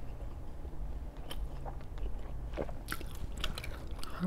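Close, quiet chewing of spicy braised pork with black bean paste, soft wet bites and crunchy mastication sounds in a slow irregular rhythm.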